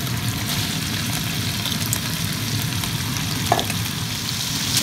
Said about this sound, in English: Saute it halfway through.